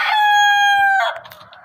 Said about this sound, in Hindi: और मुर्गे तो ऐसे होते हैं ना, जैसे ये उड़ारियाँ मार रहे हैं, ऐसे उड़ रहे होते हैं